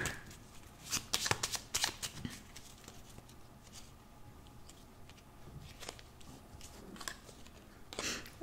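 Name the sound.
shuffling tarot cards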